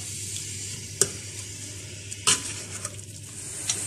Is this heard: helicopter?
no